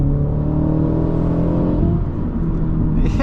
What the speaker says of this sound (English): Let's do an accel.